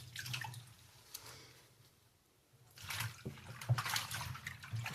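Washed collard greens are squeezed over a sink of water, letting trickles and drips fall into the basin in two splashy bursts with a quiet gap between, close and soft.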